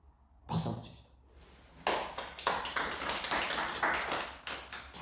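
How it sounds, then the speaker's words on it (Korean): A church congregation claps during a Sunday service, starting with a few scattered taps and then swelling into steady, moderately loud applause from a room of people. No one speaks over it. "박수 한번 칩시다."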